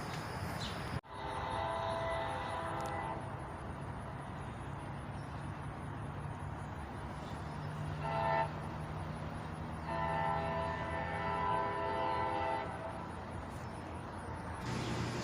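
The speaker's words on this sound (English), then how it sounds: "As soon as I heard that horn, I knew this was the train." Horn of an arriving train with GP40WH-2, F40PH and Dash 9 locomotives, sounding in several long sustained blasts from a distance over a low rumbling of the rail line, no voices.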